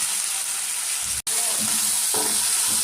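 Fresh shelled green peas frying in masala, a steady sizzle with a brief cut-out, then a few soft scraping stirs close by.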